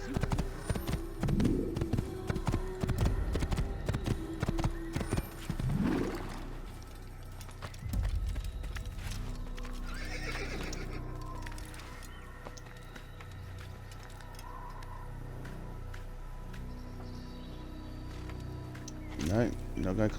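Horse hooves clip-clop and a horse neighs in the Assassin's Creed game, quiet and intermittent beneath someone talking.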